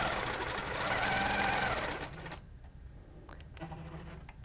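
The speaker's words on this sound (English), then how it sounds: "keeping the ruler there till my next point. Make sure I've got it lined up, and then stitch again." Sewing machine stitching a quilt along a ruler, a fast steady mechanical whir that runs for about two seconds, then stops, leaving quieter handling noises and a few soft clicks; close and clear with no talk.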